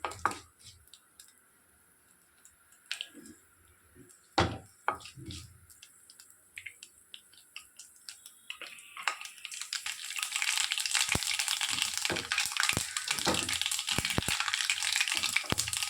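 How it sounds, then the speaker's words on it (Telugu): Mustard seeds splutter and crackle in hot oil in a pan while a tempering for mango ginger pickle is fried. Sparse pops come first, then they build into a continuous close sizzle with scattered louder snaps. "చెట్టుపట్లు ఆడే వరకు ఆవాలను మాత్రం బాగా వేయించుకోవాలి"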